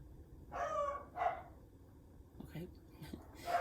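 Pet dogs playing indoors at home, a few short yips and barks scattered across a few seconds, fairly faint and somewhat distant, with low background noise and no clear talk over them.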